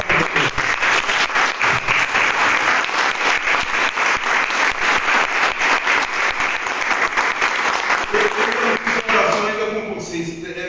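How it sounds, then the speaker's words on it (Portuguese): Church congregation applauding during a service, loud dense clapping sustained close by for several seconds before thinning out as a voice begins speaking near the end. "Dá uma salva de palmas para Deus."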